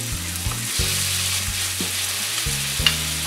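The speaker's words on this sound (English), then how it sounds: "And this is what you wanna hear when you get them into the pan, that nice sizzle." Steaks frying in a hot pan with melted butter give a steady, loud sizzle throughout, with a low hum running underneath and one brief sharper crackle near the end.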